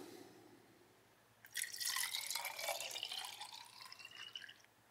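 After a quiet moment, distilled water is poured close by into a portable bidet's container, a bubbling trickle that runs steadily for a few seconds.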